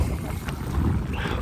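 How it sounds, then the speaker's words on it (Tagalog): Strong wind gusts steadily into the microphone while someone fishes from a boat on open water, a continuous low buffeting roar. "lakas yung hangin"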